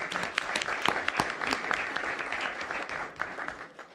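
An academic audience at a Mexico–Chile colloquium applauds to welcome the speakers, with dense, continuous clapping that holds steady and then tapers off toward the end.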